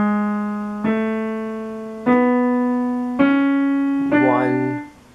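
Piano melody notes from a song, played slowly as four clear, sustained notes, each struck alone and left to ring and fade before the next.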